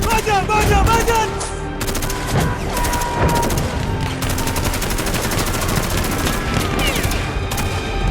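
Dramatized gunfire fills a Spanish-language audio drama scene, with rapid machine-gun bursts and scattered single shots crackling densely throughout, loud and near, with a voice briefly heard among the firing.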